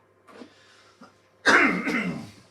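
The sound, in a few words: cough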